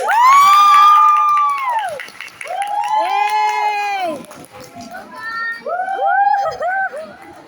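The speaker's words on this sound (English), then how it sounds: "Let's give a round of applause to the Advocatus!" An audience at a university case competition event cheers loudly, with several long bright shouts and whoops in separate bursts over a crowd murmur.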